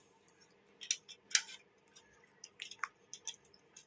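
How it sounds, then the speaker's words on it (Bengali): Fruits washed by hand one at a time, close and quiet: soft wet squishes, drips and small clicks come in irregular clusters, with no speech. "এখন এই সব ফলগুলো আমি এক এক করে ধুয়ে নেব"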